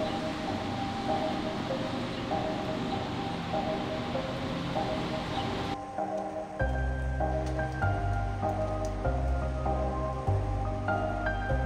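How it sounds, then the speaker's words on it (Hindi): Steady rain falls across an outdoor scene in Canada, a dense hiss of drops on surfaces lasting throughout; midway the texture shifts, with the rain continuing beneath a low, steady hum. "बरसात हो रही है"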